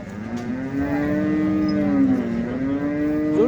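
At a bull market in Salegaon, Beed district, cattle give one long, deep, close moo that holds steady for several seconds and rises slightly at the end.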